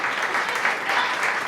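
A live audience at a comedy roast breaks into steady applause, a dense, even wash of many hands clapping close by with no voices standing out.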